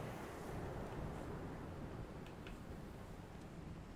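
Gusting wind on a bleak island coast in Dear Esther, a steady low rushing roar with soft swells, faint and unbroken, with no voices over it.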